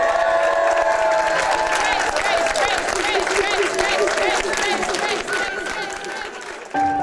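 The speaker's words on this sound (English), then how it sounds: "everybody was cheering for me" A large crowd cheers and applauds loudly and continuously for Grace after her wish comes true, clapping, whoops and shouting voices blending into a dense roar that eases slightly near the end.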